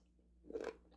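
A crisp crunchy bite into a fermented dill pickle, a short close burst of crunching and chewing that lasts under half a second, with no talking over it.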